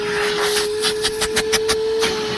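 A Bauer 20v cordless vacuum runs on setting 3, giving a steady, loud motor whine with a faint rhythmic pulsing over the noise.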